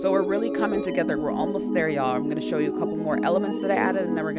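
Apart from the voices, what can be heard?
None of the usual background noises is heard.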